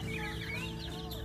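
Five-day-old incubator-hatched chicks peep in a steady chorus of high, rapid chirps, continuous and close, set against a constant low background hum.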